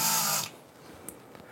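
A handheld drill bores through a plastic cap into aluminum at home, not on a drill press, giving a loud whirring burst under half a second long before cutting out to near silence.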